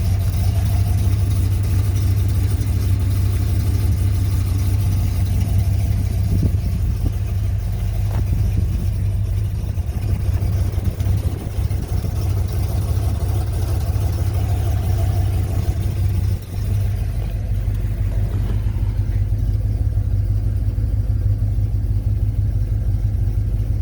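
A 1972 Pontiac LeMans Sport GT convertible's 455 V8 idles steadily in the cold, a loud continuous low rumble with an even lope that holds throughout with no talking.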